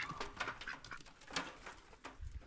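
Birds, apparently pigeons, flutter and peck near a pond, giving soft, quiet patters and scuffles in irregular bursts, close by with no talking.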